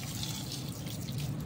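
Water poured onto eggplant plants on a hot day, a steady close splashing and trickling with no talk.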